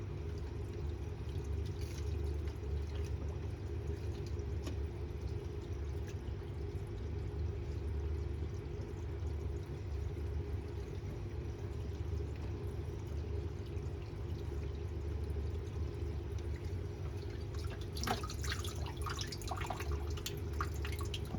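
Dirty filter wool from a reef aquarium being rinsed, with a steady soft trickle and drip of water over a low background hum, then a brief burst of splashing near the end, quiet and close.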